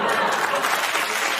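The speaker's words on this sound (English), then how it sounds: "They're laughing and they're applauding" An audience applauding during a commentary show, a broad steady wash of clapping at moderate volume throughout, with faint laughter mixed in.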